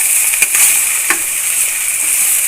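Bitter gourd pieces fry in hot oil, giving a steady close sizzle with a few brief crackles and pops, with no voices over it.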